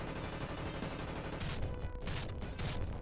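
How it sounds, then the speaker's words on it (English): Heavy helicopter gunfire in a video game battle against a Hind gunship, a loud continuous barrage of rapid shots over a roaring background, with bursts punching through. "Furret died to helicopter gunfire"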